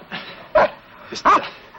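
A dog barks twice outdoors near wooded land, two loud, sharp barks about three-quarters of a second apart, with quieter rustling between them.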